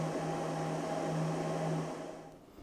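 Homelab 25GbE network equipment fan running at full 100% speed: a loud, steady whooshing whine with a constant hum that tapers slightly at the end.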